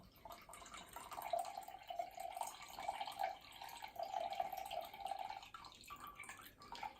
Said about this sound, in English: I'll rinse out the cup that I've used for the blender